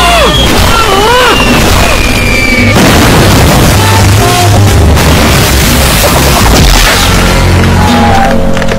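A loud, dense blast of booming and crashing noise fills the clip, with whistling streaks and rumbling bursts throughout, like a big cinematic explosion sequence.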